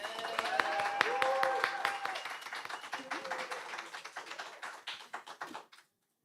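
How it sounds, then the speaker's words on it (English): An audience applauding at an indigenous peoples' welcoming celebration, a dense burst of clapping that slowly thins to scattered claps and stops abruptly near the end. "I want to first just take a second to give a round of applause to Victor and to Runa"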